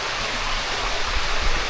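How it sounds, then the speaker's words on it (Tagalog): Steady broadband rush of creek water flowing close by, continuous and fairly loud with a slight low churn, no voices over it. "Ayan ang creek."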